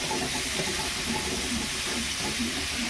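Pointed gourd slices fry in fish oil with a steady, dense hiss and crackle of sizzling that holds constant throughout, close and fairly loud.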